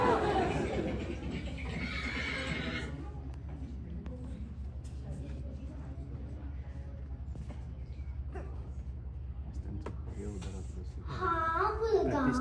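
A horse whinnies close by, with a loud neigh at the start and another at the end, while voices and other background sound run through the middle.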